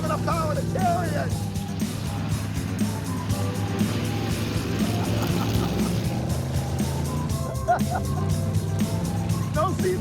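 A car lapping a small race track, its engine droning steadily throughout, with a voice speaking over the engine and barking audible in the background.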